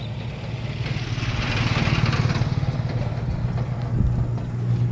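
A Kawasaki Barako II 175 motorcycle fitted with a racing big carburetor idles close by, its exhaust putting out a steady, slightly uneven low rumble that swells briefly before settling.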